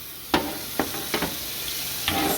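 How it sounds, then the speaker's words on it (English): Water rinses a freshly de-rusted surface in a continuous close hiss, with a few sharper splashy bursts as the stream hits and shifts. "Let's just rinse it off."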